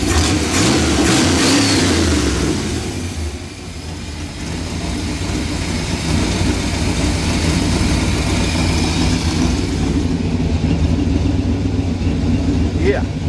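A 1966 Chevrolet C-10 truck engine with an exhaust leak runs loud and close, a steady low rumble with a dip and a rise in revs early on.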